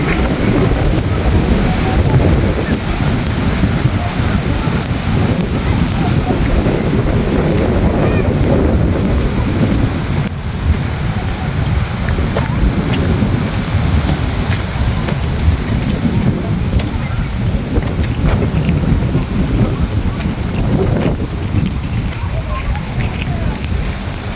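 Wind and waves on a boat ride make a loud, constant roar of buffeting air and rushing water that carries on without a break.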